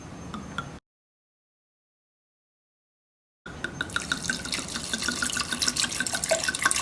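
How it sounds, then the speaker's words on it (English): A whole bottle of wine pours into a pot with five teaspoons of sugar for mulled wine. A brief splash is followed by a pause, then a steady, close-up liquid stream with dripping. "You're gonna put the whole bottle"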